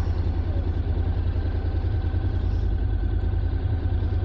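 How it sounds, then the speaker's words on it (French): A 2023 Honda NC 750X DCT motorcycle engine gives a steady, low, throbbing drone that stays close and even throughout, with no change in pitch. "Mais quel plaisir cette moto à conduire."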